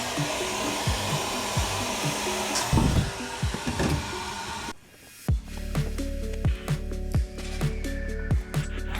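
Heat gun blowing steadily to shrink heat shrink tubing on shielded wires during an aircraft build, a loud continuous airy roar that cuts off briefly and restarts, with faint clicks and taps.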